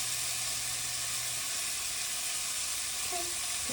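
Water hits a hot pan during cooking and sizzles with a loud, steady hiss throughout, close up and with no talking.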